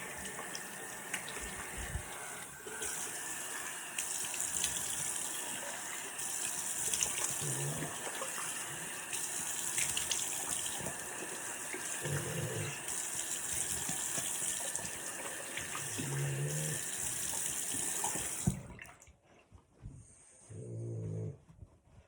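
Tap water runs steadily into a sink while a face treatment for melasma is rinsed off at home. A dog barks or whines a few times, and the water stops near the end.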